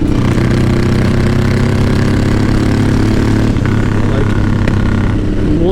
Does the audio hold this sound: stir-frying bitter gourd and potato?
no